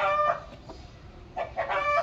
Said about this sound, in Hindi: ये है मेरा मुर्गा